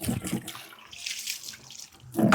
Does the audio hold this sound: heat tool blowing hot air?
no